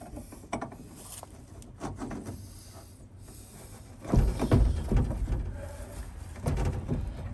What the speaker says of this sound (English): I can start getting screws and bolts in.